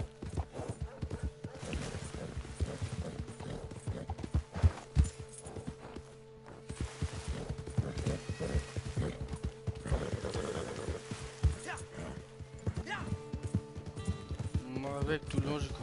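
A horse's hooves clip-clop in a steady walking rhythm along a rocky trail while the rider carries it, close by under frequent talking and occasional steady tonal background sounds.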